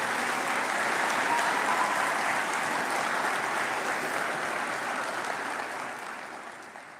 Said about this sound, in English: can we please give our wonderful lecturers a round of applause